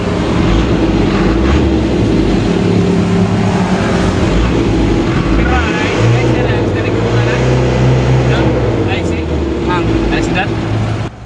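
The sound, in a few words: Isuzu 4HL-1 engine revving up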